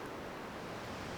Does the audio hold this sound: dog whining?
no